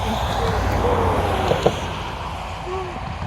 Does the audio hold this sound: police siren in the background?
no